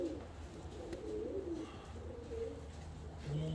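Fancy pigeons coo softly and continuously, low murmuring calls close by against a steady background hum, with no one speaking.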